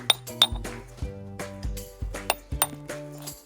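A small chisel taps lightly on stone, a series of sharp ringing clinks spaced about every quarter to half second, close and clear with no talking.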